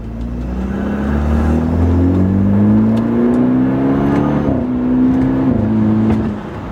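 BMW tuned with Bootmod3 for faster shifting accelerates hard from inside the car, the engine note climbing steadily and dropping abruptly at each quick paddle upshift, heard twice.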